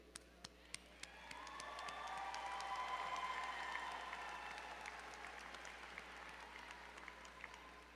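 Graduates' families and guests at a university commencement ceremony clap in sustained applause that swells after a second and then continues steadily in a large hall.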